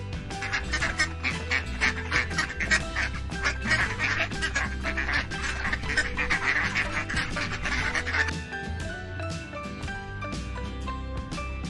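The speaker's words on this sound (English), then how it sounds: "duck sounds like" Duck quacks come as a dense, fast series of nasal calls, fairly loud and continuous over background music.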